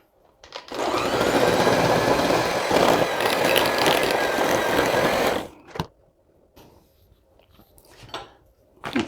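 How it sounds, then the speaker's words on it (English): Peanut butter dip is mixed by an electric appliance, a loud steady motor whir running for about five seconds before cutting off, followed by a few light clinks and knocks in the quiet. "And we're going to mix that up."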